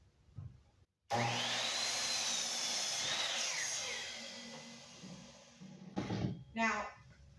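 A miter saw bites through 2x4 lumber after a brief pause, a loud whining cut that winds down over several seconds, followed by short clattering handling sounds.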